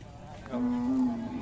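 A Khillar cow gives one low, sustained moo nearby, steady in pitch for nearly a second, over quiet background noise.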